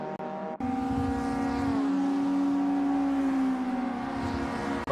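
Racing cars in the SRA GTi Challenge race, engines droning loudly and steadily as one car chases another's slipstream, a strong sustained engine tone gliding slightly in pitch throughout.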